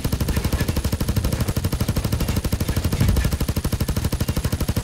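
A light machine gun fires in the video game Payday 2, a loud, rapid, steady stream of evenly spaced shots that holds for several seconds without a break.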